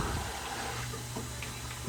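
Water rushes steadily into an aquarium through a Fluval FX canister filter, a constant noisy wash with faint gurgles over a low hum.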